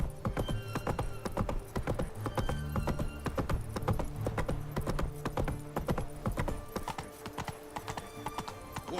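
Roach, Geralt's horse in The Witcher 3, gallops in a quick, steady run of clip-clop hoofbeats, close and loud, with a brief whinny and almost no talk.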